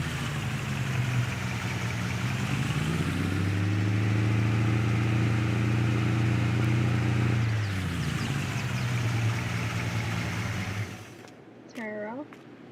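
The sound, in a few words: Chevy Silverado diesel pickup truck driving and parking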